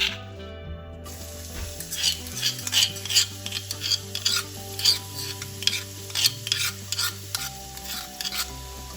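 Garlic and ginger crushed on a stone sizzle in hot oil, close and steady, while a spoon scrapes and stirs the pan in irregular strokes under a low hum.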